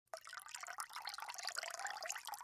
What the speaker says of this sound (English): Now that we have the liquid actually going into the glass with ice